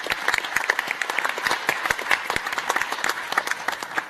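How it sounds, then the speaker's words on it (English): At a World Arabian Horse Racing Conference session in Morocco, an audience claps for a guest, a lively spread of individual claps that stays steady and moderately loud for several seconds. "Give him a big round of applause."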